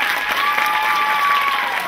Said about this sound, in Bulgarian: Бурни аплодисменти.